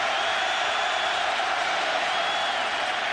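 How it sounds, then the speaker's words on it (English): A college football stadium crowd roars for the Blackshirts defense during a 2009 game against Kansas, a loud, continuous wash of cheering with no clear peaks. "Crowd getting into it for the black shirts defense"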